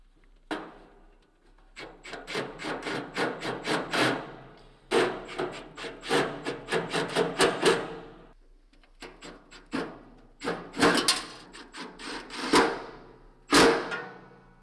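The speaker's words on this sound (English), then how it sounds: "Now we're going to reinstall the 4 screws along the left side wall of the inside of the grill." Screws being driven back into the left inside side wall of a Camp Chef Apex pellet grill, a close series of rapid ratcheting and scraping bursts, loud and near, broken by short pauses, with no talking.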